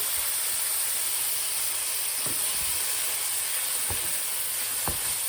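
Bacon sizzles and browns in a pan with a steady, soft hiss. A few faint pops and spits break through the frying noise, and no one is talking.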